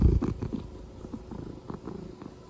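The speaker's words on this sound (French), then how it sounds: "Penses-tu qu'il entend ronronner?" A cat purring close by, a soft rhythmic rumble rising and falling with each breath, heard alone.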